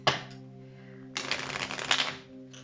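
Tarot cards are shuffled in two bursts of quick riffling, close and crisp, separated by a brief pause, over a faint hum.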